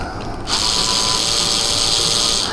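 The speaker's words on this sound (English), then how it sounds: "if you're using a power tool like this, turn it all the way down to the least amount of torque" A power screwdriver whirs up abruptly and runs steadily at high pitch for a couple of seconds, tightening tiny screws during a Bell and Howell worm gear replacement, close and loud, with no talking.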